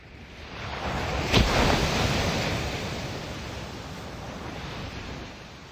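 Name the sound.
strong ocean waves crashing on the shore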